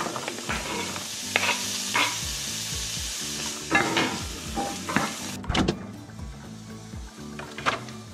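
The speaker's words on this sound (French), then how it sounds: "on prend une poêle. Hop, huile d'olive. Non, beurre, pardon. On met du beurre." Butter and onions sizzle in a frying pan, a constant hiss broken by repeated scraping stir strokes, close up and without talk.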